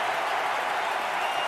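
Stadium crowd at an NFL game between the Bears and Falcons roaring on a third-and-ten, a dense, steady wall of noise with no breaks, loud and sustained throughout.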